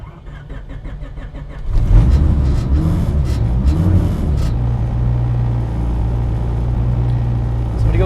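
A turbocharged B-series Honda Civic engine cranks and catches about two seconds in, then settles into a loud, close idle with blips of revving and a steady low drone.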